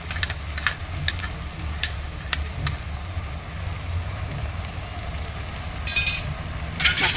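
Onions and masala frying for a tamarind fish curry: a low, even sizzle with stirring and scraping, several sharp clicks of a utensil against the pan, and a louder burst of sizzle near the end.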